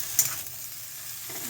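Leafy greens frying in a pan, a brief sizzle with a sharp stirring scrape at the start, then a soft steady crackle, close and alone.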